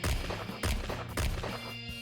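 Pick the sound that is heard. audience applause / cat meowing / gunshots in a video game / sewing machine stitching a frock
gunshots in a video game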